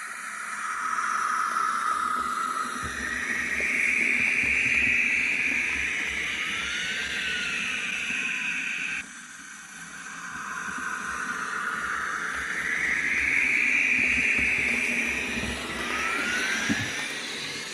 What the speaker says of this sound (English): listen to the sound of the turbine as it speeds up